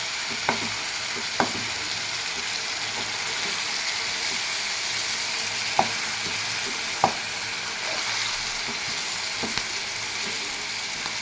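Tomatoes and onions for tomato chutney sauté in a pan with a steady, bright sizzle, interrupted now and then by sharp clicks of a spoon against the pan.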